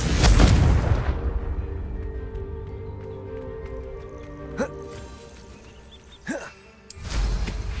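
A Confringo fire spell from Hogwarts Legacy bursts with a loud, deep blast at the start, then fades into a quieter game backdrop, with a shorter second blast near the end.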